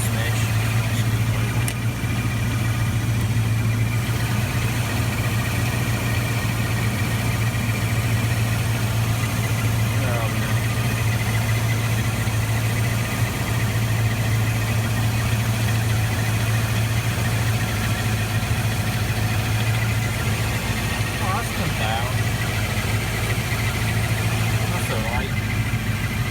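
A Rover SD1 V8 engine idles steadily during carburettor tuning, a constant low rumbling hum that runs unbroken throughout, close and fairly loud, with faint mechanical ticks on top.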